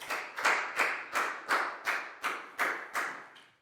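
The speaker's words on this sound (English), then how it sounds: "Big round of applause for Dan, please, guys" A pupil named Dan gets a round of applause from classmates in a Year 4 English lesson: about nine strong, evenly spaced claps, close and fairly loud, with no talking over them.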